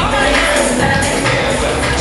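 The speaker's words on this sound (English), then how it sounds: "Give him a rousing round of applause" Crowd noise at a men's swimwear contest, a dense, loud, steady wash of clapping and cheering for a contestant that fills the whole moment without a break.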